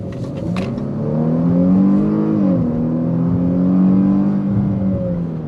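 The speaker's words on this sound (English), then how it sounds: "we instantly downshift" Engine of a 2021 Chrysler 300 V6 rising in pitch after a downshift, a steady close drone that swells and eases over several seconds with no talk.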